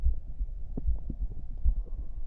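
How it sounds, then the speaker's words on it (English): Heartbeat and stomach sounds recorded close up, a steady low thumping pulse repeating about every half second with soft gurgling and rumbling in between, muffled and continuous with no talk. "It's my stomach sounds and my heartbeat."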